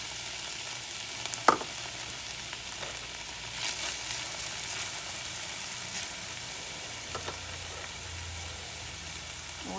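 Diced purple onions frying in a pot as the start of a beef stew, a low steady sizzle close by with an occasional clack of a utensil, fairly quiet and with no one talking.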